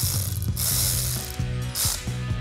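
A ratchet wrench clicks rapidly while turning a bolt on an engine during valve cover work, loud and close in bursts of quick pawl clicks with short back-swings between.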